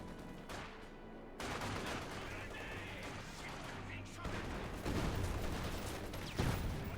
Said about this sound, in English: Michigan then getting hammered by a lot of firepower here from Giap side of the map.